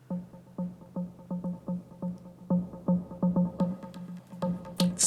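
Soloed percussion loop from a Musicalbox 2 module in VCV Rack, a steady electronic pattern of punchy thumps and clicks with a bright hit near the end, clean and close.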